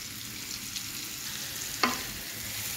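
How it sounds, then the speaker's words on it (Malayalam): Sliced onions sautéing with salt in vegetable oil, a soft, even sizzle heard close up, with one sharp clink of a spoon against the pan partway through and no voices. "സവാള വഴലാൻ വേണ്ടി നമുക്ക് കുറച്ച് ഉപ്പ് ഇട്ട് കൊടുക്കാം"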